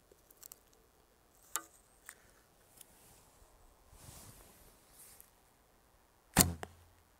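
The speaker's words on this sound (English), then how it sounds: "you can hear that thrum when the arrow is released." Recurve bow with an S&H Icaro ILF riser and Uukha VX+ limbs releasing an arrow: faint ticks and a soft rustle build to one sharp, loud thrum and snap near the end, recorded close in quiet surroundings.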